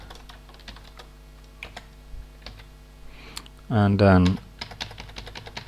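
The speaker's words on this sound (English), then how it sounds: "Hastily typing is not so okay." Quick burst of typing on a computer keyboard while coding for a fischertechnik TXT controller in Python 2.7, a dense flurry of close, loud keystrokes lasting about a second, with scattered softer clicks and brief speech around it.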